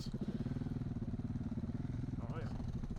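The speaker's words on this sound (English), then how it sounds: "You can hear Mr. Bo being happy on the throttle there with his wah, wah, wah." Off-road motorcycle engine on a gravel trail in southern Sweden rumbles with rhythmic throttle pulses, a steady low chugging revving under the motion, with a brief higher whine near the end.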